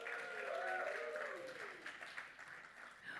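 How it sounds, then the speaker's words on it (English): An audience at an Ariel brand event with Sonam Kapoor and Anil Kapoor breaks into applause, faint crowd clapping mixed with a voice over a public address system. "So give yourselves a huge round of applause."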